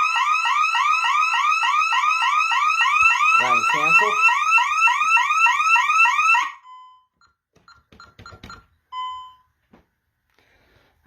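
A Honeywell Vista 15p security system alarm blares a fast repeating electronic warble for about six seconds and then cuts off, followed by keypad beeps and a brief spoken phrase.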